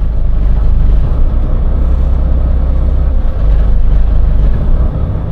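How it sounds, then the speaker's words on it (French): A diesel expedition truck's engine idles low at around 500 rpm with the vehicle shaking, giving a steady, loud low rumble throughout with slight surges and no talk. "Si je lâche, regarde, on descend à 500. Le camion vibre de partout."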